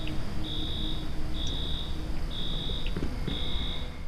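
Alarm in the video game INFRA, a repeating electronic tone sounding four times at an even interval of about one second, each beep steady and sustained, over a constant background hum.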